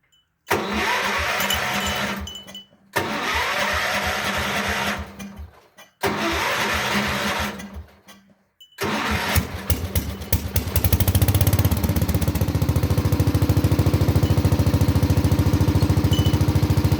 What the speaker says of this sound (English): I'll start the tractor up and I'll show you the operation of it